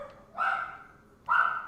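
Dogs bark indoors in the background, two separate sharp barks spaced about a second apart, moderately loud against a quiet room.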